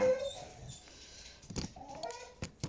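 A pet dog whimpers and yips in short, faint, high whines, with a few sharper sounds breaking in near the end, all fairly close and quiet.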